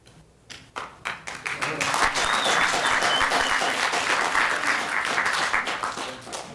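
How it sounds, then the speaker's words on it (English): Applause at a council meeting, starting with scattered claps and swelling into steady, loud clapping from a crowd that holds for several seconds. "Clapping because your camera actually flashed."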